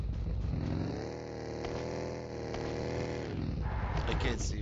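Motorcycle engine droning in the mobile shooter PUBG Mobile, a steady mid-pitched hum holding level then shifting pitch, under ongoing game audio with a voice talking over it.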